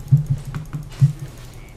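Typing a message on a computer keyboard, with a quick run of close, distinct key taps in an uneven rhythm that pauses briefly and resumes.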